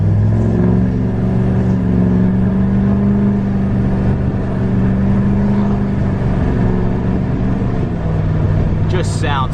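A 2020 Duramax diesel truck engine runs with a steady low rumble and a rising whine from the turbo spooling, a constant drone heard from close by.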